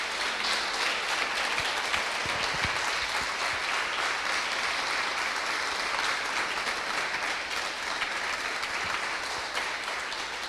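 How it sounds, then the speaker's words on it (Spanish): A church congregation gives a long, even round of applause, many hands clapping in a dense continuous wash that holds steady at moderate loudness with no speech over it. "Dale un aplauso a nuestro Dios por su amor,"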